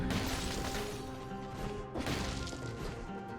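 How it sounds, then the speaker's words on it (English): In the Dead Cells video game, a glass-breaking crash hits twice amid constant busy game sound: a loud shattering smash, then a second similar burst about a second and a half later. "What's that sound of like glass breaking?"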